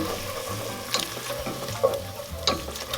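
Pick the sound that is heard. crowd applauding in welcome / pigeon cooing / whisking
whisking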